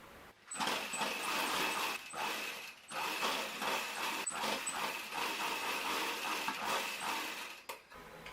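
A sewing machine stitches the side seams of a kids' Baba suit dress, a steady close mechanical whirring run broken by short pauses between bursts of stitching.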